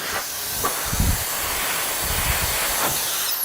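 A loud, steady rush of air from an electric compressed air duster hisses close by without pause, with a few low thumps and buffeting bursts underneath.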